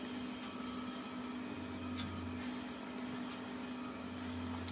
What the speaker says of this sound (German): Bohren es, aber nicht komplett durch.